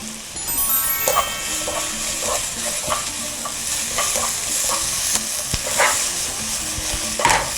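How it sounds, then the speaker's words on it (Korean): Sliced garlic and chili peppers stir-fried in hot cooking oil with a pinch of salt, a continuous sizzle with repeated scraping clacks of a utensil against the pan at a steady rhythm. "식용유를 살짝 두르고 달궈지면 썰어 놓은 마늘 넣겠습니다."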